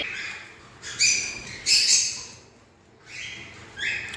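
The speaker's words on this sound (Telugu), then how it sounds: "మార్నింగ్ టైంలో బర్డ్స్ సౌండ్స్" Several short bursts of high-pitched chirping from pet birds in the morning, close and fairly clear, separated by brief quiet gaps, with no talking.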